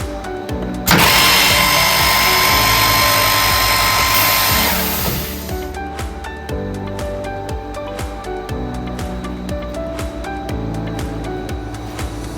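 A 2016 SCM Minimax vertical and horizontal borer with 21 spindles at 32mm centres drills with a loud harsh roar for several seconds. It then settles into a steady motor hum with light rhythmic ticking. No voices.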